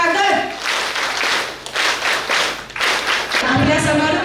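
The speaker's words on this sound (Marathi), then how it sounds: "त्यांच्यासाठी खरोखरच आपण एकदा जोरदार टाळ्या वाजूया" A crowd at a local ward community event claps together in sustained applause, loud and close, with scattered voices underneath before the clapping thins out near the end.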